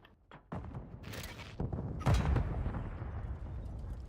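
A player's own grenade goes off in Call of Duty, producing a series of booming, rumbling blasts and bursts of gunfire in quick succession, mid-level in loudness, with no talk.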